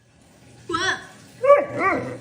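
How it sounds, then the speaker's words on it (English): A dog gives two soft, muffled whisper barks, short breathy woofs close by in an otherwise quiet room. "You whisper bark. You go woof."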